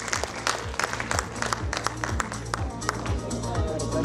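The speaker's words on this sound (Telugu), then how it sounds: "వెరీ ఒకసారి గట్టిగా చప్పట్లు అశోక్ రావు గారికి." A crowd applauds a guest at a movie promotion event in Vijayawada, with brisk continuous clapping over an amplified voice and a steady thumping background beat throughout.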